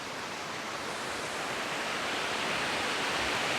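The main falls on Waterfall Way in NSW pour down, making a constant, even rushing roar that sounds somewhat distant, with no voices.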